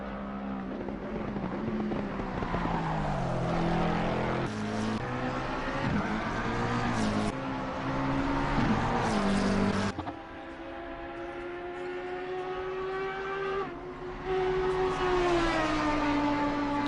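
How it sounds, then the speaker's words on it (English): Audi R8 GT3 race car in a sim racing game at Bathurst, its engine note climbing through gears with sharp shift breaks, loud and close throughout, revving up and down in repeated pulls with no speech. "the Audi R8 actually sounds pretty similar to what it was like on Project Cars 2"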